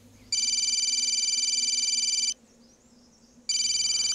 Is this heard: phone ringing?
yes